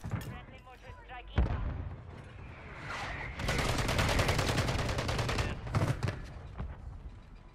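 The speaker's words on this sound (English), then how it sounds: "Friendly mortar strike on the way." A friendly mortar strike lands in Call of Duty amid a firefight, with a sharp blast followed by a long stretch of dense, rapid gunfire and explosions at moderate loudness.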